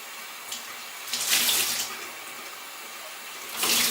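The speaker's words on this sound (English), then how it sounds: "Wring out your sponge" Water streams and splashes from a wet sponge being wrung out beside a potter's wheel, a short hiss near 0.5 seconds, a fuller pour around 1.5 seconds and another at the end, close and moderately loud.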